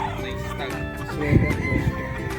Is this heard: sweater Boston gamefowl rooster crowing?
yes